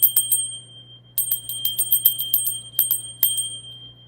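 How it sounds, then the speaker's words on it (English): A small bell is rung to clear energy in bursts of quick repeated strikes. The bright, ringing tone is loud and close, with short pauses between the clusters of strikes over a faint low hum. "let's go ahead and ring the bell, okay? To clear out the energy"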